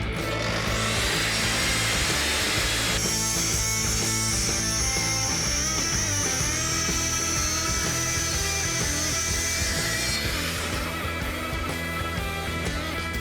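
A power saw cuts a wooden backboard for a bathroom shelf down to 30 millimetres, a steady high whine holding for about seven seconds over continuous background music.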